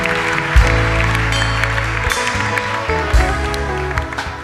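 A church congregation applauds loudly and continuously during a worship service, a dense wash of clapping and crowd noise with a few louder bumps along the way.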